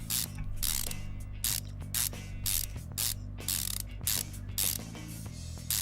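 Ratchet tightening engine head bolts in Car Mechanic Simulator 2015, rapid clicking pawl bursts repeating in quick sets over a low steady hum, close and clear with no speech.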